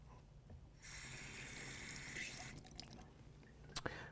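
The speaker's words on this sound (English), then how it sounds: "flush test cock 1" Water gushes out of test cock 1 on a backflow preventer during a flush, a hissing rush lasting under two seconds before tapering off, followed by a couple of faint clicks, with no voices.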